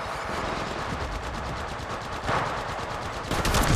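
Rapid automatic gunfire from the mobile shooter game Apex Legends Mobile rattles in a fast, even stream of shots, loud and close, with a heavier burst near the end and no talk.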